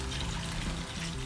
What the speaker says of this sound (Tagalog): Pagkatapos lagyan natin ng tubig dahil matagal tong palambutan.